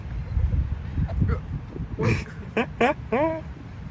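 A few nasal, honking goose calls ring out in quick succession over a soft, rumbling background, the last one drawn out and rising.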